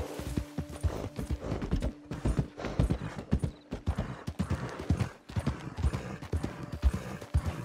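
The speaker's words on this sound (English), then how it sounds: "Let the horse regen a little bit." Horse hooves beat out a steady, rhythmic galloping clip-clop in the video game Red Dead Redemption 2, loud and close, with faint tack and gear jangling underneath.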